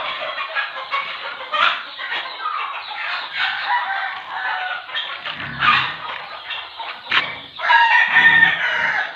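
A busy flock of chickens clucks and squawks continuously, with hens calling over one another up close and occasional louder cackles.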